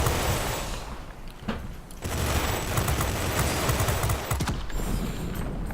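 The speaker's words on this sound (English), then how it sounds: "Man, these guns overheat quickly." Rapid machine-gun bursts from a fighter aircraft in the flight combat game World of Warplanes, a dense crackling fusillade that runs almost continuously with short breaks, loud and close over steady engine drone.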